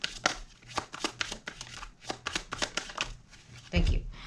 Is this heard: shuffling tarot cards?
yes